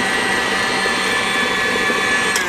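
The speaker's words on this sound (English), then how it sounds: "And then I just mix it again really quick." Electric mixer whirring steadily through orange cupcake batter for a few seconds, a continuous close motor drone with a high whine and no talking.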